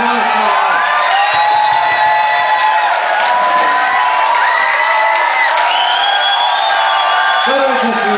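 Concert audience at a band's reunion show cheering, whooping and shouting loudly and continuously, a dense crowd roar with high whistles and calls rising over it throughout.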